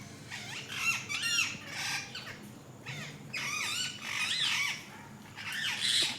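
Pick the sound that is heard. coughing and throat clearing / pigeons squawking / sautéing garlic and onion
pigeons squawking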